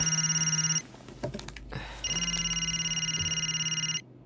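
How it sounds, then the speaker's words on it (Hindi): An indoor telephone rings in two long electronic ring bursts separated by a short pause filled with faint clicks and rustling, close and clear, with no talking. "हे विमल, फोन उठाना यार।"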